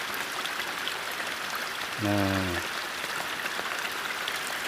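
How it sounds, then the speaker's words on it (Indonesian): Steady rain falls close by beside a small stream, a continuous broadband hiss that runs the whole way through, with one brief short word spoken over it. "Musim hujan nih, sedang hujan sekarang."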